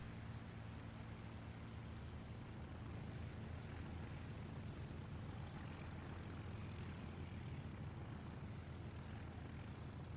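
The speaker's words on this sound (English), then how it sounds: "There I'm just using the rudder to taxi around on the airfield" A P-38 aircraft's twin piston engines drone steadily as it taxis on an airfield in War Thunder, a continuous, even propeller hum with no voices.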